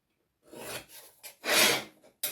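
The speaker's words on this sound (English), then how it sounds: "I'm just going to scribe these in so I can see them" A scriber dragged across a universal joint trolley mating plate for a DIY motion simulator build, several close raspy scraping strokes of uneven length separated by brief pauses, with no talk over them.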